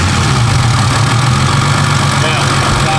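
A turbocharged BMW E36 engine, smoking from the exhaust, cranks and settles into a steady low idle that runs close and loud without a break, with a voice speaking over it.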